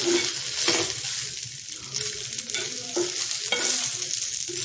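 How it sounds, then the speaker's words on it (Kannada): Leftover rice mixture fries in a pan with a bright, hissing sizzle and regular scraping stirs from a spatula, near and fairly loud, with no talking. "ನಾನು ಒಂದು ಹುರಿತಾ ಇದ್ದೀನಿ ಅದನ್ನು"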